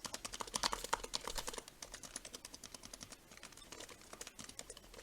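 Rapid, continuous keystrokes on a Razer Huntsman mechanical keyboard with a metal top, clicking close and moderately quiet with a slight rattle, dense and busiest in the opening moments before settling into a steadier patter.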